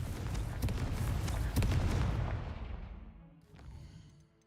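A Confringo fire spell bursts in Hogwarts Legacy with one heavy, rumbling boom that swells, then rolls away and fades, and a small thump follows near the end.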